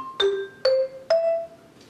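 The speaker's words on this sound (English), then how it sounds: "If I have the pedal up, it sounds like this, a much more staccato, short note." Mallet percussion bars played with the pedal up, three short staccato notes struck at an even pace, each tone cut off quickly rather than ringing.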